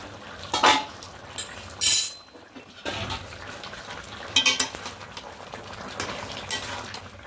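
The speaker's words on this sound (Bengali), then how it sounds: "ঢাকাটা খুলে নেব।" Metal lid lifted off a cooking pot of chicken biryani, giving a few bright clanks and clinks over a quiet kitchen background, with a sharp knock near the start and more scattered rattles later.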